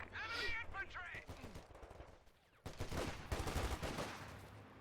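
Rifle and machine-gun fire from riflemen in the strategy game Company of Heroes 2, bursts of crackling shots amid battle noise, with a voice briefly heard early before the firing intensifies.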